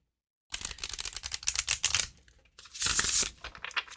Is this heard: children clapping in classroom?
no